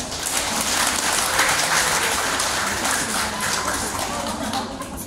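A church congregation claps together during a service, a dense continuous patter of many hands filling the room at steady volume, with no voices standing out.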